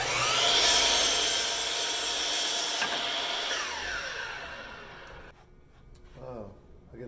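Power saw cutting through a clamped water ski with a glue-laminated bottom, a loud sustained whine that fades after about five seconds, then a voice speaks.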